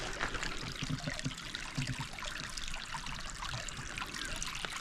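Creek water trickles steadily over rocks along a stream feeding Baird Creek, a continuous close babble with a few low splashes, no voices.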